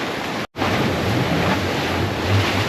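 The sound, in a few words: sea waves and wind on a windy day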